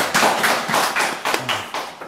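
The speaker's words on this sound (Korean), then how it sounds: "이럴 때 우리 박수 한번 쳐줘야 돼요" Clapping from a congregation during a Korean church sermon: a quick run of sharp, close claps and thumps, roughly evenly spaced, with no voices over them.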